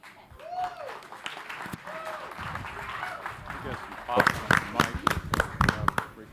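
Audience applause at a semifinal match between Fisk and North Carolina Central on a stage, starting thin beneath a talking voice and swelling into denser, louder clapping in the final seconds.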